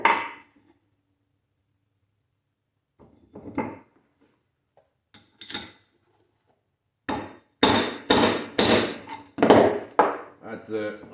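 A socket is hammered to seat a bearing onto a Jonsereds 90 chainsaw crank, scattered sharp metallic taps at first, then a rapid run of loud, ringing hammer blows.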